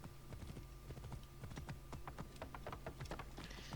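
Horse hooves clip-clop steadily in the video game Assassin's Creed Origins, a quick, regular run of close hoof taps at low volume, with no speech.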